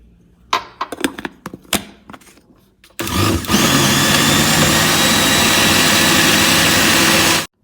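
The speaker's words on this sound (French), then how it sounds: "Voilà, j'ai à peu près tout qui est mixé." A few clicks and taps give way to a blender roaring loudly and steadily for several seconds, whirring galette batter with oil, then cutting off abruptly.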